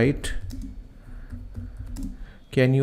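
Keys tapped on a computer keyboard while a prompt is typed, a run of light clicks spread through the clip, with a voice speaking near the end.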